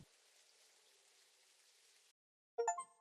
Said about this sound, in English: What was with that singular spot that was raining so heavily?